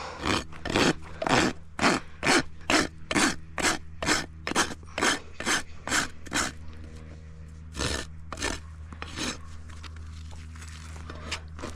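A rasp files a mini pony's hoof to bevel the edge, giving a close series of about fifteen sharp, rhythmic scraping strokes, then a few softer, scattered rubs as the work slows.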